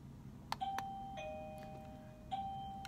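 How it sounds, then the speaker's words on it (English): An electronic doorbell chimes two sustained ding tones, followed by another ring a moment later, clear and fairly close in a quiet room. "push the doorbell when it was time for the story to start"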